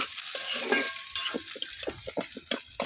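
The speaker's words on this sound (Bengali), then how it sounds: "তো এখন আমি এই যে পেঁয়াজ আর রসুনের সাথে শুটকিগুলো ভাজা নিব বন্ধুরা।" Dried fish frying with onion and garlic in oil in a pan: a soft sizzle beneath a series of sharp, irregular scraping and clicking strokes as a spoon stirs it, close and fairly quiet.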